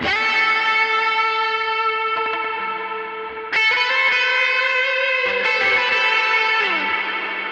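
An electric guitar played through a Line 6 Helix with distortion and reverb rings out in loud sustained chords, each struck anew and left to wash into a long reverberant tail.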